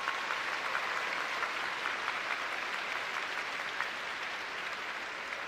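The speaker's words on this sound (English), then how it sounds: "Please join me in a round of applause for the Color Guard, the Keystone College Symphonic Band," Steady, dense applause from a large commencement crowd at a college graduation ceremony, heard evenly at a distance for several seconds with no talk.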